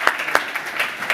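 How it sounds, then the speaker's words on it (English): Brief round of applause from a conference audience in London, a handful of sharp claps close by over a soft wash of clapping. "Round of applause for Burek."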